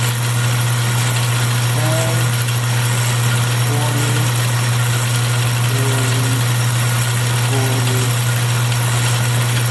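A metal lathe running under load while taking fifty-thousandths-deep cuts, giving a steady, loud, continuous machine drone with a low hum throughout and faint intermittent tonal squeals from the cut.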